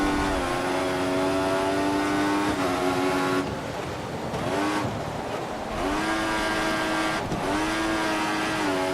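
An F1 race car in the F1 2014 video game revs hard with a loud, steady high-pitched engine whine. The pitch dips and climbs again as the wheels spin up, and there is no talk over it.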